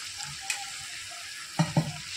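Chicken kosha sizzles in a pan after a little water goes in, a steady hiss with a couple of quick spoon knocks near the end, close and alone.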